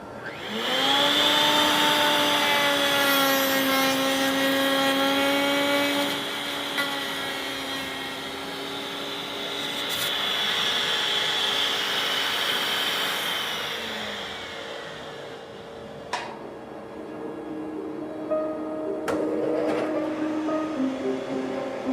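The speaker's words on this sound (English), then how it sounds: "If you're going to make a cut like this on your router table" A router on a router table cuts dovetail slots in a wooden workpiece, a loud, close, sustained high whine that shifts in pitch as the bit moves through the wood, then winds down.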